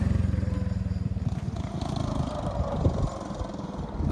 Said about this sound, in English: I don't know why it has so much like gear noise